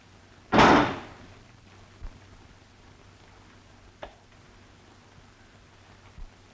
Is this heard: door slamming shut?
yes